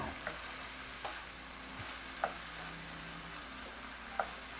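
About a cup of broth cooking down in a pan, a faint, steady simmering hiss broken by a few light clicks of a stirring utensil.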